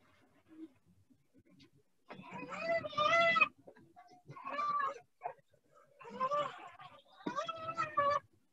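A domestic cat meows several times in a row, clear and close, with drawn-out, wavering cries separated by short pauses, played as an animal sound for a first-grade Marathi class.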